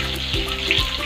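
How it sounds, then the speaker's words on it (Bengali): Potatoes fry in a hot pan with cumin and coriander added, giving a steady close sizzle with faint stirring scrapes, no talk. "আলুটা প্রায় ভাজা ভাজা হয়েছে, এর মধ্যে আমি জিরে"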